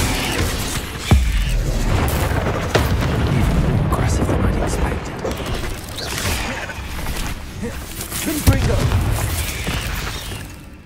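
Repeated fiery blasts of the Confringo explosion spell in Hogwarts Legacy, several sharp booming impacts with crackling, shattering debris over a continuous rumble of combat effects, loud and close throughout.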